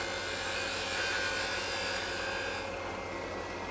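A wood lathe hums steadily with a 3/8 spindle gouge rolling a bead on a turned bottle stopper, a continuous close whirring drone with a faint cutting hiss, no voices.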